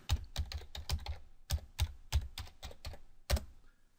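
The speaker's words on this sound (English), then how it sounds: "I'm just going to put my password in now." A password is typed on a computer keyboard: a short, uneven run of about a dozen crisp key clicks, close and clear, with a brief pause near the end and no talking.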